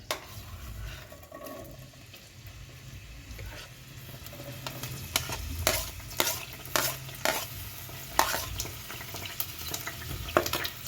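Onions fry in a pan as they are stirred toward golden brown, a low sizzle under a run of sharp, close scraping strokes that grow more frequent, with no talk.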